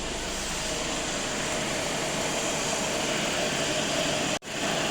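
A Skoda Octavia 4x4 diesel idles in a steady, continuous drone with no gaps, the low rumble holding level before a brief cut near the end.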